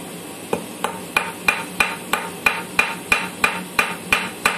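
Steel being hammer forged into a tanged arrowhead: about a dozen sharp, evenly spaced metallic blows ringing close by, steady in rhythm with brief decays between strikes.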